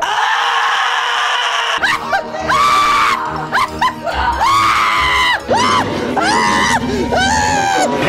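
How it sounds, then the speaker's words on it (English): Riders on the California Screamin' roller coaster shriek and wail loudly, several voices rising and falling in overlapping screams with brief gaps, close and intense throughout. "I'll scream on it because it's California Screamin'"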